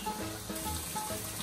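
Diced tomato goes into a pan already holding garlic and chicken, giving a close, continuous crackling sizzle with faint stirring underneath.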